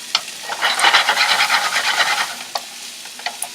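Italian sausage browns in a pan while a spoon stirs it, producing a steady close sizzle with scraping strokes that fade to a few isolated taps toward the end.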